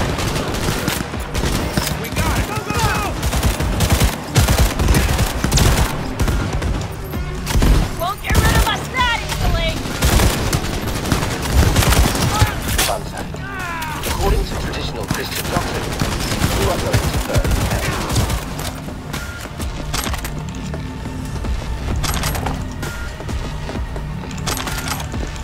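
Rapid bursts of automatic gunfire and single shots in the video game Cyberpunk 2077, loud and dense throughout, with clinking and a speaking voice at times underneath.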